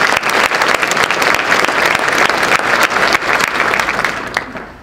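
Loud, sustained applause from an audience at a school district's State of the Schools address in Akron, dense clapping filling the whole stretch before thinning toward the end.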